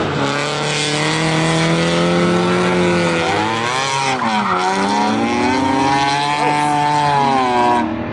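Two drift car engines at Sandia Speedway roar and rev together, pitch rising and falling in overlapping loud, rasping howls with no pause.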